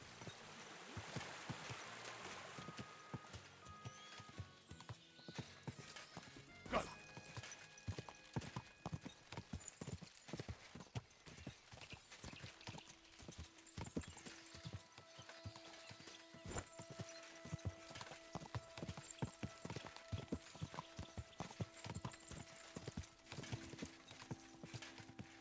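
Horse hooves clip-clop in a steady trotting rhythm while riding in Kingdom Come: Deliverance 2, loud and close, with occasional tack rattles and faint background ambience throughout.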